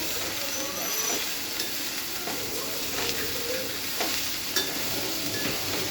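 Cowpea leaves fry in a pan with a steady, fairly loud sizzle, and repeated stirring strokes and light scrapes come through close by; no voices.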